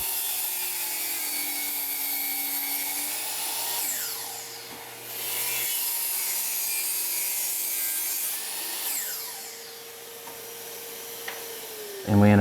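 A saw cuts mitered joints in wooden window trim, a steady close grinding and rubbing buzz that dips briefly and resumes, ending with a sharp thump, with no voices.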